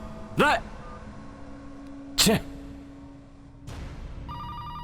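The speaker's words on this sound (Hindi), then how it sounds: "भाई, विजय का फोन आ रहा है।" A telephone rings in two short electronic trills a couple of seconds apart, followed by a brief rising tone and a low hum underneath.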